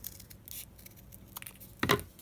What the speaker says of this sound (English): I'm just gonna cut this so that it's even.